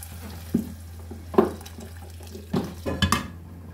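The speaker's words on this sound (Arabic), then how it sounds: "وبعدين هضيف ميه بتغلي." Boiling water is poured in several short splashing bursts into a frying pan of salted meat cooking on the stove, close and moderately loud against a quiet kitchen background.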